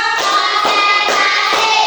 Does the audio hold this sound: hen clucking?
no